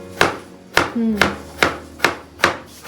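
A knife finely chops food on a board in a home kitchen: six sharp, evenly spaced strikes land close and loud, with a brief voice-like tone in between.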